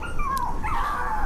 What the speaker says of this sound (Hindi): वो कुत्ता तो कुछ दूर जाकर फिर से भौंकने लगा